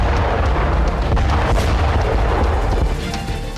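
Explosions from a Russian drone attack in Kherson roar as a loud, dense rumbling blast wash that holds heavy and sustained for several seconds before easing slightly.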